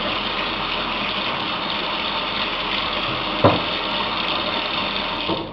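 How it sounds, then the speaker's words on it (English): Hands are rinsed under a running tap while preparing a turkey, a steady gushing water stream with one brief knock near the end, no talking. "Rinse my hands off again."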